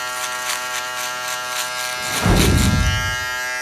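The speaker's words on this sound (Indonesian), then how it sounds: "selanjutnya yaitu kita shaver bagian yang sudah di trimmer. Kita gosok semuanya hingga terlihat halus." An electric shaver buzzes steadily close by, then its tone thickens and grows louder as it presses against freshly trimmed short hair on a drop fade haircut.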